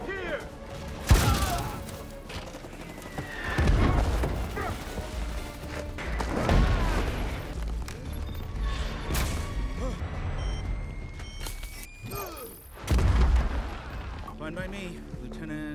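Gunfire and explosions in an animated war scene, heavy thuds, crashes and bursts landing at intervals over a continuous battle din and score, with voices shouting through the chaos.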